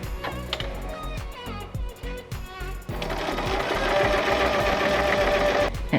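Sewing machine stitching blouse fabric, running in a steady mechanical whir with a faster, denser stretch after a short pause, loud and close with no talking.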